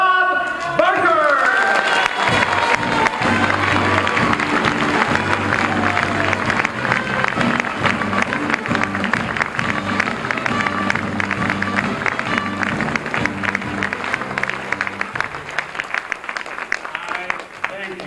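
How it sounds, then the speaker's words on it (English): Loud, sustained applause from a banquet audience at an Academy Awards celebration at the Magic Castle, a dense wash of clapping with some cheering that rolls on steadily for the whole stretch after a host is introduced. "All that applause"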